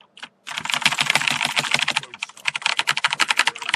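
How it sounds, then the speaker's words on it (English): Computer keyboard keys hammered rapidly during PC gameplay, a dense, loud clatter of clicks after a brief pause, growing more rhythmic and staccato toward the end. "smashing our freaking keyboards"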